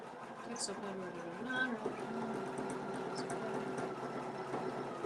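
An embroidery machine stitches out a cat patch with a steady, fairly fast mechanical whir and needle chatter that runs throughout, with a person talking over it.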